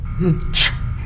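A professor sneezes: a short vocal intake is followed by a sharp, breathy burst, with faint voice sounds before it.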